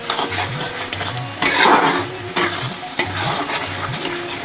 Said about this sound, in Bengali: আর এদিকে আলুটাকে ভাজছি